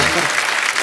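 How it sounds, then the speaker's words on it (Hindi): Studio audience on The Kapil Sharma Show bursting into loud applause, a short dense burst of many hands clapping close and bright. "जोरदार तालियां।"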